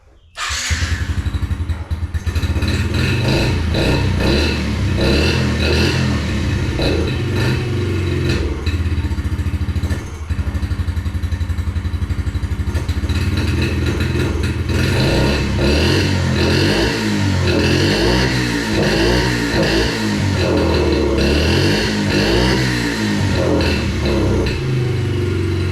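A 2021 Yamaha TTR50 small motorcycle engine runs loud and close, revving up and down with uneven, rising and falling pitch as it struggles to idle, a steady clattering drone throughout.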